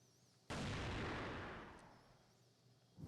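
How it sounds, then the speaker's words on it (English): A single loud sniper rifle shot in the CrossFire shooter game, at a competitive match on the Blacklist map, cracking sharply and leaving a long decaying echo, with a second shot or impact starting at the end. "Gokin gets sniped"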